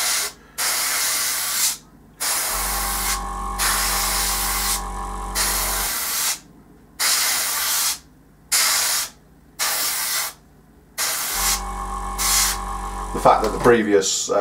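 An airbrush sprays a heavy wet coat of paint into a model's intakes in repeated bursts of close, loud hissing separated by short silences, with a low compressor hum during some bursts.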